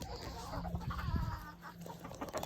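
Backyard chickens clucking softly while feeding, scattered murmuring clucks and short calls at a moderate distance, fairly quiet with a little background noise.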